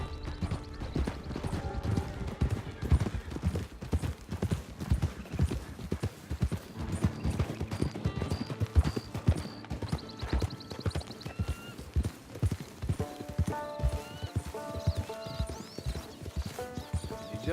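Horse hooves clip-clop steadily in Red Dead Redemption 2, a brisk repeating rhythm of close, clear hoofbeats over a music bed, with an occasional whinny.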